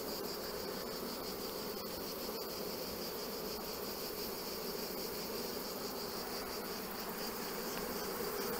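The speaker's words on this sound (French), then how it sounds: "les abeilles ont tendance à courir comme des folles, là" Honeybees swarm and buzz around an opened hive being readied for transhumance, a dense, continuous, close hum with no voices.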